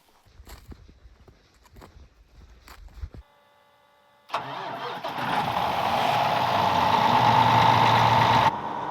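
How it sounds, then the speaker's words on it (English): A few footsteps and clicks, a brief whir, then a tractor engine on a Saskatchewan wheat farm cranks, catches and settles into a loud, steady idle. "Let the tractor warm up."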